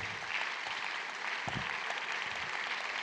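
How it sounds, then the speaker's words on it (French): An audience applauds Béatrice Tenus as she is called up onto a stage, a steady wash of clapping that holds across the whole stretch, with a few louder claps standing out near the middle. "Je vais vous demander d'applaudir Béatrice Tenus"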